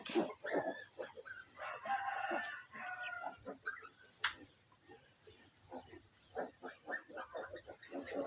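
A sow nurses her piglets, with repeated grunts and squeals close by. Roosters crow, hens cluck and a dog barks intermittently in the background.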